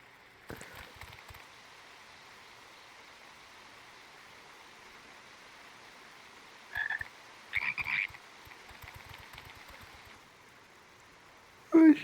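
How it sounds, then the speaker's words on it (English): Many frogs croak in a Final Fantasy XIV game area, a steady low chorus running under ambient background with a few louder croaks bunched near the middle and end. "So many frogs"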